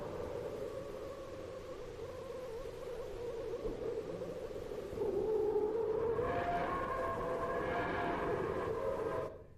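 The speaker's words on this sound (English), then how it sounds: "what these are, turns out, are electron Bernstein waves" Sonified electron Bernstein waves from space plasma form a steady, eerie droning hum. Halfway through it swells slightly into layered, wavering tones that sound like a ghostly chorus, then cuts off abruptly.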